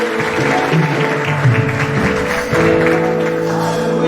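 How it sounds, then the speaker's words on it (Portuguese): A congregation applauding during a church thanksgiving service, steady dense clapping with a faint voice underneath, sustained throughout. "Se você crê, diga amém e aplauda ao Senhor da glória."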